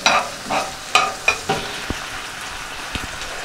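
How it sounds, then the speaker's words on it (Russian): Sausage and golden browned onion sizzle and fry in a pan while being stirred, with a run of scraping strokes and a few sharp clinks of the utensil against the pan, no talk. "И отправляем сюда нашу колбаску. Вот так. Все мы перемешиваем."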